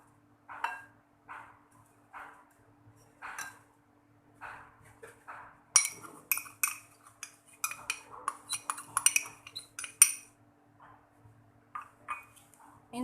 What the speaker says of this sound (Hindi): घी को हम बीट करेंगे। साथ ही हम इसमें पीसी हुई चीनी का 1 कप डालेंगे।